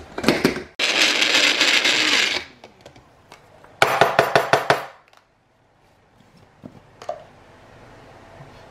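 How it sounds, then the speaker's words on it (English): Magic Bullet blender mixing grated Parmesan cheese, running in loud whirring bursts: one long spin, then a stuttering series of short pulses, followed by quieter clicks and taps of the container. "Let's put our top on the magic bullet. And let's mix this up a little bit."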